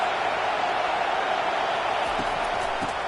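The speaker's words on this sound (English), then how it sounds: "This crowd bringing the energy and noise early." A stadium crowd at a Clemson vs Georgia Tech college football game roars in a constant, dense wash of noise, loud and unbroken throughout with a few low thumps near the end.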